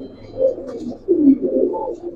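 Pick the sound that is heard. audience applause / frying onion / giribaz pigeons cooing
giribaz pigeons cooing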